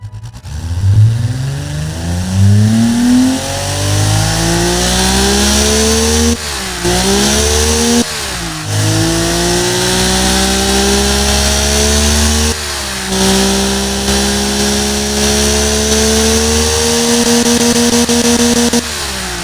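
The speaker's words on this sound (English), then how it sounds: "Nice engine noise." An inline-six car engine in a video game starts and revs hard, its pitch rising and falling in several long sweeps. The engine is loud and close, with no talk over it.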